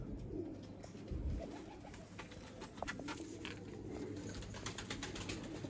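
Sialkoti pigeons coo softly and repeatedly over a steady background hum, their low rolling calls continuing throughout without any talking.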